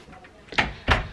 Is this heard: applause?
no